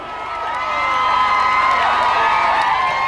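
A big crowd of rugby league fans celebrating the Newcastle Knights cheers and shouts in a dense, steady roar that swells over a few seconds and holds loud, with whistles and whoops rising through it.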